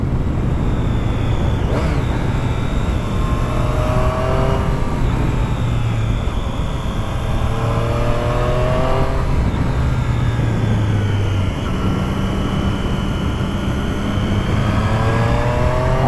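A Triumph Street Triple S 660 A2-restricted motorcycle on the road, its engine revving up through the gears in repeated rising sweeps with shifts between them, loud and close against steady wind roar, no talking.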